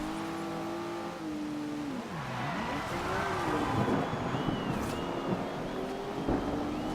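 A Maserati race car engine roars in the Forza Horizon 2 racing game, its revs rising and falling in pitched sweeps over a steady rumble as the race gets underway, loud and continuous throughout.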